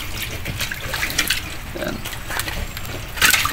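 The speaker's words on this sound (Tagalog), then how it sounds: "Ayan, konti yung lumalabas na tubig, parang barado." Thin stream of water trickling weakly out of a clogged washing machine drain hose, a soft continuous dribble with a brief louder splash near the end, under someone speaking.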